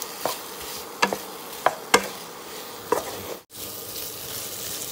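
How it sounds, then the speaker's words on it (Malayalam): A spoon stirs spiced chicken curry in a frying pan with black pepper powder, Kottayam style, giving a soft sizzle under a series of sharp clicks and scrapes against the pan, with no talking. "ഇനി നല്ലോണം ഇളക്കാം."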